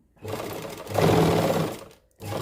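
A sewing machine runs in one continuous burst, stitching lace onto a suit, and ends with a short restart.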